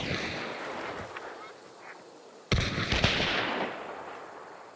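Gunfire between players in Hunt Showdown, a sharp shot cracking out at mid-point and a second soon after, echoing over ambient outdoor game noise with distant wildlife-like honks beforehand.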